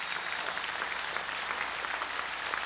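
Audience applause at a country music show, a dense, even patter of many hands filling the room at moderate level, continuous and without voices.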